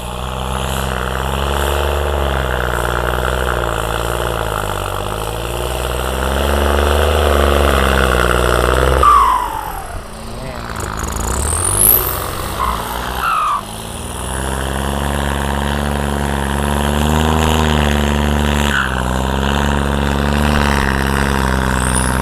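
Two modified engines on tuned vehicles with wastegate boost control rev hard, the accelerator held so they howl loudly and continuously, with sharp revving sweeps and a brief dip midway.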